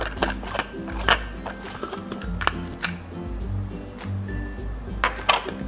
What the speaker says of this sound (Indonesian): Cara bukanya diputar seperti ini. Kita buka ya tutupnya.